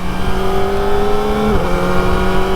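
A Kawasaki ZX-4RR motorcycle accelerates hard, its high-pitched engine whine climbing steadily, briefly dipping for a quick-shifter upshift, then rising again, loud and close.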